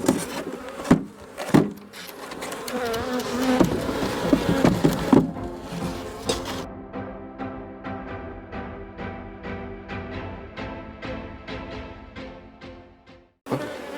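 Honey bees buzz around hive frames full of honey during queen rearing with a divisible hive, a dense close hum with scattered rubbing and knocking of frames, thinning out later into sparse buzzing.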